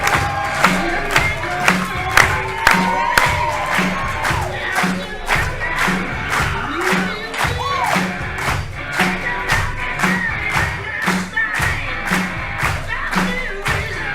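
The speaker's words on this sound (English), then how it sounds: "Crowd here is getting behind Rebel Kel after a tremendous victory here at Without a Cause" Wrestling crowd cheering and chanting after a victory, loud and close, with rhythmic clapping or stomping beats repeating steadily under the roar throughout.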